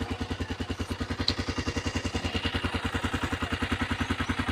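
A Honda TMX motorcycle, bored up to 150cc with a stock pipe, runs at a steady idle close by. Its low, even thumping beat continues with no talk over it.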